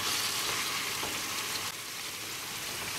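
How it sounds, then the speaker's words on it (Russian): Tomatoes and tomato paste stew and fry in a pan as a base for borscht, giving a steady, dense sizzle close by that dips slightly in level partway through, with no talk. "Сейчас немножко потушится и добавлю перчики, чтобы все тоже тушилось и поджаривалось все вместе."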